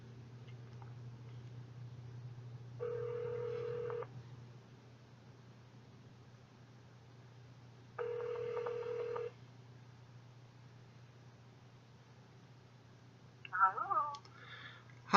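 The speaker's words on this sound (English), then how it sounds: "I'm going to call someone." A Sony phone places a call: faint dial-tone beeps in two separate bursts of ringback about five seconds apart, then a brief chirping tone, all quiet over a low steady hum.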